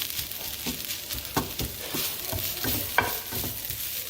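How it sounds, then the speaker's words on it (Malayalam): Coconut mushroom thoran being stirred in a pan, with a steady soft sizzle and repeated scraping strokes of the spoon, close and fairly quiet, no talk. "നന്നായിട്ട് ഇളക്കിക്കൊണ്ടിരിക്കുക."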